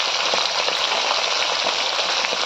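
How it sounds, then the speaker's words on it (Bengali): Bata fish frying in hot oil, a dense, steady crackling sizzle heard up close with no voices. "মাছগুলো তেলে দিয়ে দিয়েছি মাছগুলো ভালো করে ভেজে নেবো"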